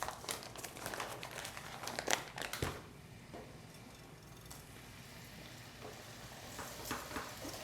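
A metal whisk works flour into hot fat to form a roux, producing a soft scraping and crinkly sizzle that is busier at first and then settles into a quieter, faint hiss.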